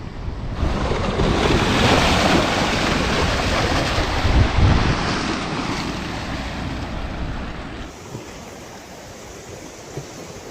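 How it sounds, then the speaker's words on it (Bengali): Ocean surf rolls onto the beach at Mousuni Island at dawn, a loud continuous roar of breaking waves mixed with gusty wind buffeting the microphone, easing somewhat toward the end. "সুন্দর হাওয়া ঢেউয়ের গর্জন"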